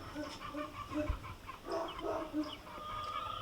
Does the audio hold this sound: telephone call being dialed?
no